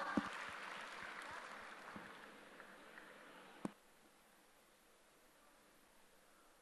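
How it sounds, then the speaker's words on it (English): A conference audience claps for the paper presenters at a technical session, with broad, steady applause that gradually thins out and then drops away to near silence. "Please give them a huge round of applause."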